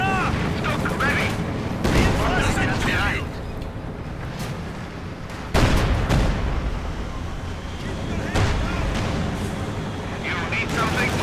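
Gunfire and artillery rumble through a Company of Heroes 2 battle, with dense bursts of rifle and machine-gun fire and heavy booming blasts in rolling waves, loud and continuous, while a commentator talks over the action.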